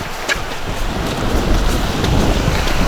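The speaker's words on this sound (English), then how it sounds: "the wind really picks up when these showers come through, so it's a bit like being in a wind tunnel in this glen" Strong wind gusts and a passing rain shower in a Scottish Highland glen near Inchnadamph, a loud, continuous roar of wind buffeting the microphone mixed with driving rain, building slightly over three seconds.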